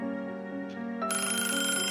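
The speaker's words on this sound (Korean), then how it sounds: "그때 전화들이 울리기 시작했다." Old telephones ringing on a beach, shrill electronic ringtones that layer and grow more discordant as another phone joins in, loud and continuous with no voices.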